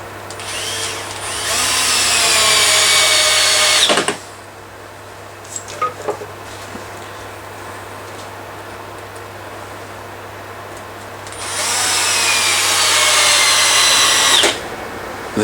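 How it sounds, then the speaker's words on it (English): Power drill driving screws through a lathe faceplate into a wooden platter blank: two loud, close bursts of whirring drill noise separated by a quiet stretch with a few small clicks. "After finding the centre, we're just going to pop some screws in."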